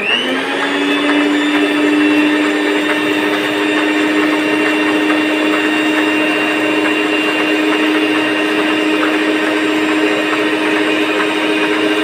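An Electrolux EHSM3417 electric hand mixer, used to make banana cake, runs with a loud, steady motor whine that holds unchanged for the whole stretch, with no voices over it.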